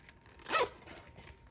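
A large zipper runs along a vegan leather cash envelope binder in one quick, crisp pull lasting a fraction of a second, close and clear.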